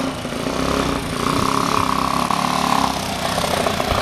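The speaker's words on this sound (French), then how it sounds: "quelqu'un qui essaye ma moto" A Yamaha DTMX 125 motorcycle engine running nearby, a buzzing mid-pitched putter that rises in revs around the middle and then settles back toward idle, fairly loud and alone without speech.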